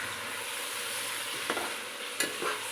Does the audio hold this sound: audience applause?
no